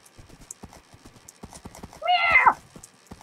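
Horse hooves clip-clopping in Minecraft survival, with a horse whinny rising loudly in the middle; people talk quietly through the rest.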